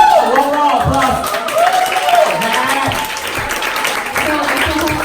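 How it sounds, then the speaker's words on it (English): Crowd applause at a book party, steady clapping from a gathered audience continuing under loud voices and cheering chatter. "One more applause."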